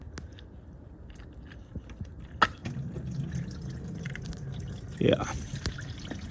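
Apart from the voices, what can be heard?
brownish coolant draining from a 2002 Mitsubishi Galant radiator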